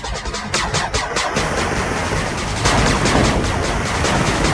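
Rapid gunfire from units in the strategy game 8-Bit Armies crackles continuously, a dense, steady barrage that swells slightly toward the end, with no voices over it.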